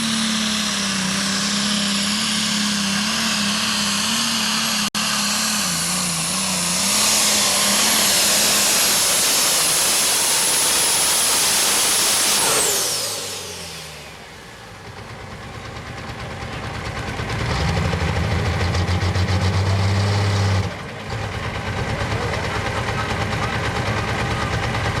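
A pulling tractor on a 2-stack Ford turbo engine roars loud and near, building boost as a high turbo whine climbs and then cuts off, followed by a deeper rumbling idle and rev with faint talk in the background.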